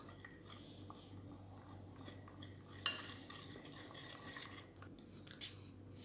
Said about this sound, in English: And whisk together all the ingredients.